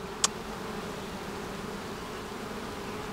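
Honeybees in a beehive, raising a new queen, make a soft continuous buzzing hum at low level, with one brief sharp click near the start.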